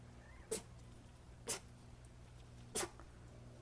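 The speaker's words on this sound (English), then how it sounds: "You got some sneezing going on?" A Maine Coon mother cat sneezes three times, quick sharp bursts about a second apart, close and fairly faint against a low steady hum.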